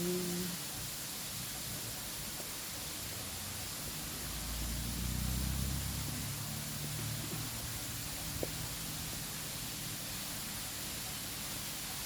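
Steady broadband rush of a waterfall, a constant hiss filling the whole clip with a slight low rumble swelling midway.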